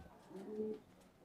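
A single soft coo from a pigeon in a loft housing racing-type birds, faint and brief against quiet background noise.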